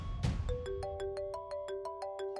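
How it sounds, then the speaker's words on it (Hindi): A mobile phone rings with an incoming call: a bright, melodic ringtone of evenly spaced repeating beeps in a steady rhythm, clear and close, with no talking. "नादिर भाई का फोन आ रहा है।"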